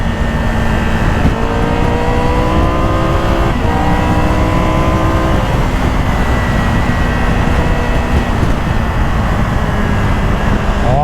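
A 2022 Triumph Tiger 1200 GT Pro motorcycle accelerating hard on the road, its engine note climbing through repeated rising sweeps as it shifts up, loud and close over constant wind rush.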